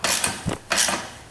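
A bolt on a 450cc race quad being twisted in and out, two short close metallic creaking grinds separated by a brief pause.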